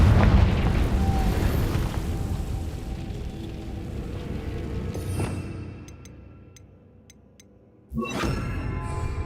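A Confringo blasting spell from the video game Hogwarts Legacy goes off with a loud booming explosion whose rumble slowly fades, followed by a few light ticks and then a second sharp blast.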